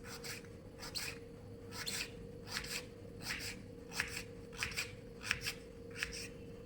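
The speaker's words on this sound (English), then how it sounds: "And now you can cross cut it like this into chips." A chef's knife cross-cuts a pumpkin into chips for sabji, giving about a dozen quick, close, crisp chopping strokes in a steady rhythm over a faint background hum.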